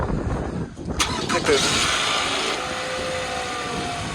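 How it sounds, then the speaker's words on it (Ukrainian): A cold Toyota Camry engine cranks and fires up, then settles into a steady idle close to the microphone, with a person talking nearby. "запуск я Toyota Camry, машина холодна"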